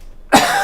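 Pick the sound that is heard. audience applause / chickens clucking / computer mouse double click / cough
cough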